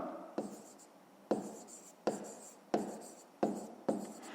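Pen or pencil writing out a fifth-grade math solution on paper, heard as several short scratchy strokes in bursts, each starting sharply and trailing off, close and fairly quiet with no talking.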